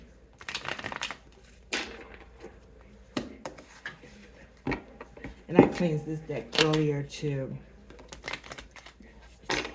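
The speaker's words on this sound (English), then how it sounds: "I love to break it down and shuffle." A tarot deck being shuffled and broken down by hand, with several bursts of soft riffling and card flicks between stretches of someone talking close to the microphone.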